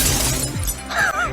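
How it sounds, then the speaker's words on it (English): Glass shatters in a film training scene where a sung resonant pitch breaks it, a loud crashing burst with tinkling fragments and a rising whine, close and alone without talk. "You're hitting a pitch with sound waves that have the same resonant frequency as the glass. That's why it shatters."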